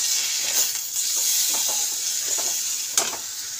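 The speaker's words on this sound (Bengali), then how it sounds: "তো মশলাটা কষা হচ্ছে" Spices with turmeric, coriander powder and salt fry in oil for a chola curry, giving a steady close hiss and sizzle with faint stirring scrapes and one brief sharper clink.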